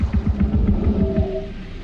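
Low, throbbing whale-like alien calls from the 2016 film Arrival pulse in a rhythmic series, then rise into a brief moaning tone, loud and close with no speech.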